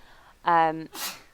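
A single short human sneeze, a sharp voiced burst followed by a breathy hiss, fairly close in a quiet room.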